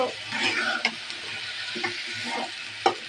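Beef with spice masala fries in a pot and is stirred, giving a steady sizzle with a few sharp scrapes of the spoon against the pot, close and clear with no talking.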